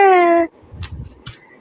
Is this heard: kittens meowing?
yes